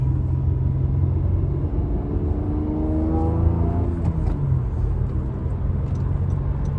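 A 9th-generation Honda Accord engine fitted with BC cams drones under acceleration, its rising engine tone sweeping upward inside the cabin over steady road rumble.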